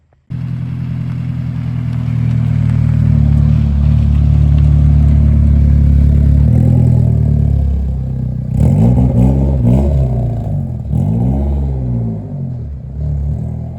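Nissan 240SX engine revving while driving, a loud close rumble that holds steady, then rises and falls through several quick revs toward the end.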